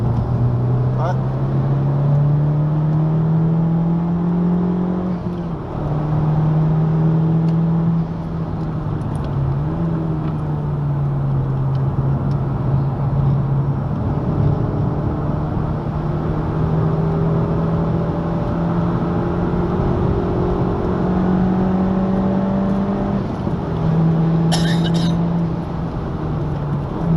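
Car engine droning steadily at speed on the Spa-Francorchamps circuit during a public driving session, a loud close cabin hum with pitch rising and falling through gear changes, while people talk over it.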